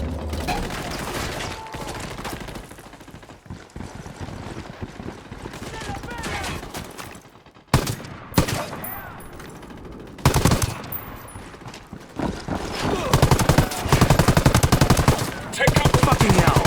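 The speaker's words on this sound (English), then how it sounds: "Got some rebels trading shots with the cartel." Gunfire between rebels and cartel in the video game Ghost Recon Wildlands, with long bursts of rapid automatic fire and single shots at varying distances, getting louder toward the end, partly under voices talking.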